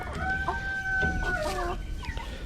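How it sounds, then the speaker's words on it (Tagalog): Backyard chickens with two roosters, one rooster crowing a drawn-out call close by while hens cluck underneath, set against a low, steady outdoor background. "yung aking mga alaga ngayon na mga manok. Bali, dalawa yung tandang yan."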